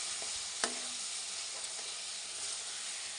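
Onions and tomatoes cook in a pan for a tomato chutney, giving a constant bright sizzle with a sharp clink of a spoon early on and occasional faint stirring scrapes.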